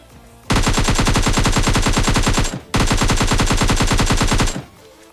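Automatic gunfire in a shooter video game, two long sustained bursts of rapid, evenly spaced shots separated by a brief pause, very loud and close with no voices.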